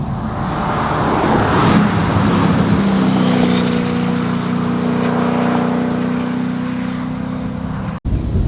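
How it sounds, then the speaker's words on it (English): A turbocharged Koenigsegg at a racetrack roars past, its exhaust note a loud sustained drone that swells and then gradually fades as the car pulls away, with no talking. "That exhaust note, you can hear those turbos. It sounds so good."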